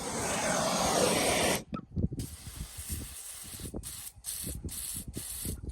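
A torch hisses in a steady, strong roar while heating seized spark plugs on a 1927 Chevy truck outdoors in gusty wind, then cuts out and leaves softer wind and scattered knocks.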